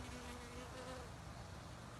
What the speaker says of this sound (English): Our beautiful little zebra bees.